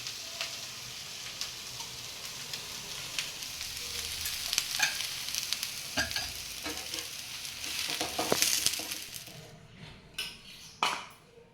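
Ghee sizzles on a pesarattu in a pan, a steady close hiss with occasional scrapes and taps of a utensil, the frying fading near the end as a few clinks remain.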